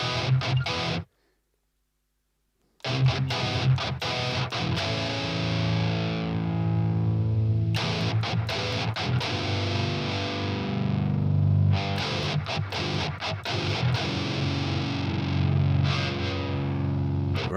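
Electric guitar low notes through the Rhino distortion plug-in on iOS, thick and heavily saturated, with chugging palm-muted riffs and sustained chords, loud and close, broken by a short silence early on.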